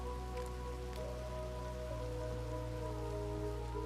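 Steady rain pours in the RedM Old West roleplay game, a constant even hiss on surfaces with low steady hum and music tones underneath, no talking.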